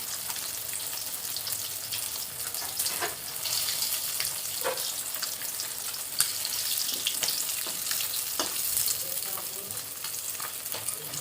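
Pieces of boal fish fry in hot oil in a wok, making a steady, bright sizzle with intermittent sharper crackles and stirring clicks, close and uninterrupted, with no voices.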